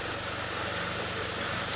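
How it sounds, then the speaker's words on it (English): SG-100 airbrush with a 0.3 mm needle spraying paint: a steady, close, even hiss of air and atomized paint that runs without a break and has no voices. "it's got a lovely large spray pattern"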